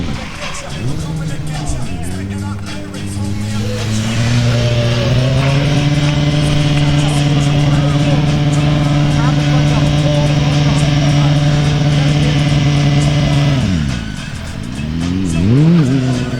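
A 200-horsepower BMW superbike engine holds a steady loud high-revving whine during a stunt show, then drops off and revs again near the end, close and continuous.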